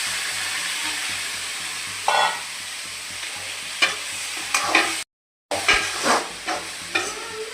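Brinjal sautéing in a pan for a prawn curry gives a steady close sizzle, broken by scraping stirs at irregular intervals and one short silent gap.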